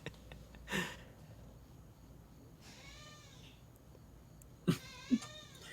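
Cat meowing several times, a drawn-out nasal call in the middle and two short sharp meows near the end, close and clear over faint background hiss.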